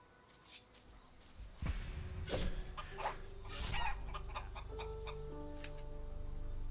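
Chickens cluck and squawk in the video game Risen, several close birds with sharp calls and a low rooster-like crow over steady ambient game background, no talk.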